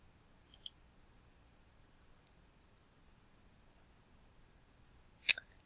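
Computer mouse clicks on a family tree view in a quiet room: a quick double click, a single click about two seconds later, then a sharper click a few seconds after that, each crisp and close with silence in between.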